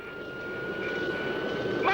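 A Bell X-1 rocket plane roars in flight, a steady, dense, close rush of engine noise with a thin whine running through it, heard alone without talk.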